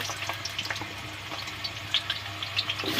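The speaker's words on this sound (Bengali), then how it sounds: "তো আমাদের তেল গরম হয়ে গেছে, আমি ভেজে নেব" Potato and elephant foot yam pieces fry in hot oil in a kadai over a gas flame, a close, bubbly crackling sizzle with a few sharper pops and no talking.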